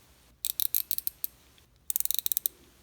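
A Daiwa Caldia LT spinning reel's drag gives two quick bursts of sharp, evenly spaced clicks, close and crisp with a clear high pitch and a short pause between runs.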